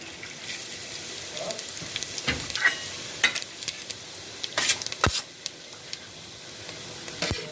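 Soft sizzling of fennel seeds in hot oil, fairly quiet, with a few scattered crackles and pops.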